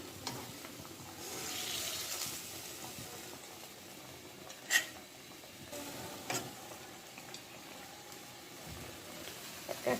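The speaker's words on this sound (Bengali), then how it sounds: "এবার মাছটা আমি উঠায় রাখবো।" Fried rohu fish lifted out of a pan with a spatula: a faint, quiet sizzle broken by a few isolated scrapes and taps of metal.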